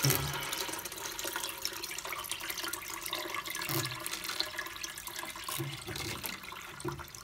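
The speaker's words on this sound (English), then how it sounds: "the ball is rubbing slightly against the side of the cistern" A toilet cistern fills with water, a steady hissing rush close by throughout, with faint low knocks suggesting the float ball rubbing slightly against the cistern side.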